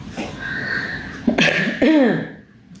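Two quick coughs break through a murmuring background, the second one harsher and more voiced, both close to the listener.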